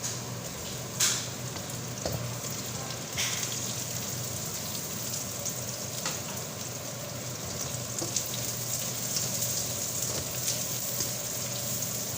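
Crispy pork belly pieces frying in a pan of hot oil, a steady dense sizzle and crackle with occasional sharper pops, close and continuous with no voices.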